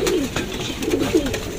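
Pigeons at a loft cooing in low, rolling burbles that repeat steadily, close and moderately loud, with no voices over them.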